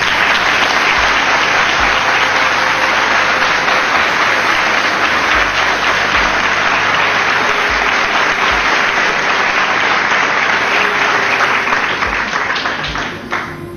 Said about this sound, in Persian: به نظر شما لازم هست که یک تشویق جانانه شهرستان سیریک و جاست بکنیم